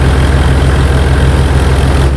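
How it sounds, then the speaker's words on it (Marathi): A tractor engine running a Reinforce P-535 thresher for urad, steadily at idle, a loud continuous low rumble with an even throbbing pulse, close up. "14-15 के RPM पे ट्रॅक्टर चल रहा है अभी"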